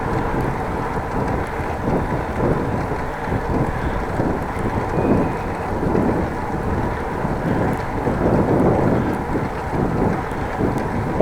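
Wind rushes across the microphone of a cyclist riding into a headwind, a continuous low, buffeting roar with gusty swells and no voices.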